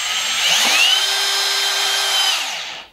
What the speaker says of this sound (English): He's driving a wood screw.